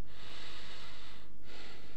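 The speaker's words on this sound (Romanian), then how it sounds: "Aud o respirație!" A heavy, rasping breath hisses steadily for about two seconds in GTA San Andreas, close up, with a brief dip partway through.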